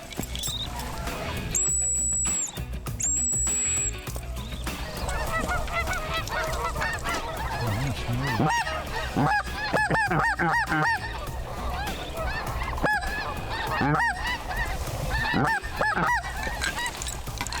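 A flock of snow geese on Silver Lake honks in overlapping, busy calls at moderate distance, steady throughout the stretch, with a couple of brief high tones near the start and no talking.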